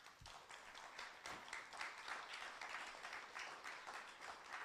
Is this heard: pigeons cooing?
no